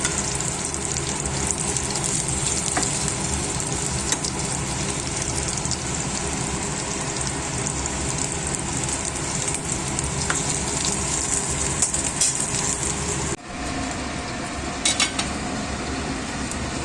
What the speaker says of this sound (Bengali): উচ্ছে ভাজাটা হয়ে গেছে, পটলটা উল্টে দিই। পটলটার একটা সাইড হয়ে গেছে